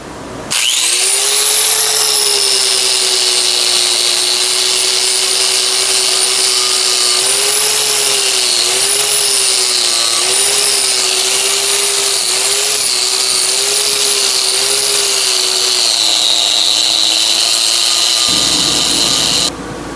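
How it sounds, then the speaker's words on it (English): A cupped wire wheel brush on a power tool scouring rust from a vintage axe head, a loud, sustained whining grind that holds steady for about twenty seconds, then winds down. "if you're careful with the cupped wire wheel, cup brush, or whatever you want to call it, you can still leave some patina on there"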